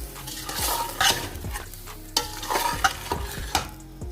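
Whole spices are stirred in a pot of hot oil, a series of irregular scraping and clattering strokes from a spoon over a soft underlying sizzle, close and moderately loud, without talking.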